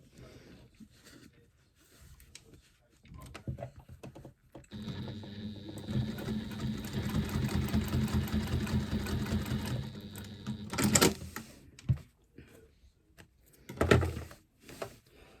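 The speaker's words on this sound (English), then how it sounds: "let me just sew this fake pocket onto the front of my fake bag" A sewing machine stitches a pocket onto the front of a fabric bag, running in one steady, close whirring burst of about six seconds, then stopping, with light handling clicks and knocks before and after.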